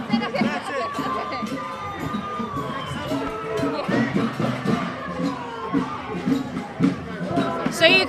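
A crowd at a march for Palestine during the DNC fills the air with a steady murmur of many voices, scattered shouts and chatter, near and continuous, with people talking close by.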